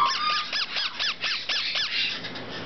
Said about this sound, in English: They do stop that squeaking once they stop hand feeding.